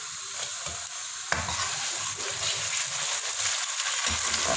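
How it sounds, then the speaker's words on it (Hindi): Onions and tomatoes fry in ghee in a pan for aloo gobhi, a steady close sizzle with stirring scrapes and a sharp clatter about a third of the way in. "दो मिनट के लिए हम इसको फ्राई करेंगे ताकि टमाटर नरम हो जाए।"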